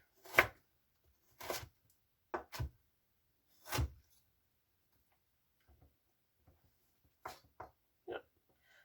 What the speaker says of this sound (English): I'm going to cut it into sticks, and then I'm just going to mince it up from there